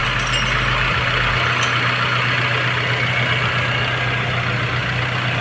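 A Nissan Grandeur engine idles at close range while a newly fitted AC compressor is tested. The low, continuous rumble holds an even drone, with a small shift in tone near the start.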